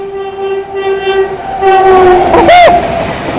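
Indian passenger train bound for Rajgir, Patna and Kiul overtaking on the Seemanchal Express route, sounding a long sustained horn, then a second rising-and-falling horn blast close by, over rumbling wheels and track clatter.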